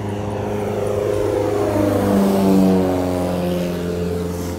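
A propeller airplane taking off nearby drones with a loud, steady engine tone that swells to a peak midway and then slowly eases off, with no talk.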